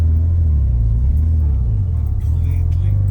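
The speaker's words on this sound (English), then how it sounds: "speed bumps with a lowered car." A lowered Nissan car rolls over a speed bump: a deep, close engine rumble runs throughout, with a brief rattling scrape from the underside near the end.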